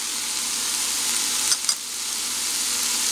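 Low sodium soy sauce, Sriracha hot sauce, lemon juice and miso paste go into a hot pan of vegan ramen soup base, and a steady loud sizzle and frying hiss follows, with a brief stir or splash midway.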